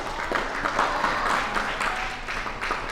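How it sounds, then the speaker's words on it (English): An elementary school assembly audience claps to welcome a guest speaker, a short, fairly loud burst of many hands with uneven rhythm, heard on its own without talk. "give him a round of applause"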